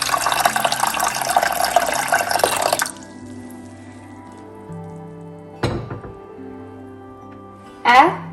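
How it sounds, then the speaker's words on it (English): Water pours in a loud, gushing stream into a cooking pot with tamarind pulp during South Indian cooking, stopping after about three seconds, followed by quieter kitchen clatter and a couple of brief splashes or knocks. "I'm going to add more water to this, maybe about 1 cup of water."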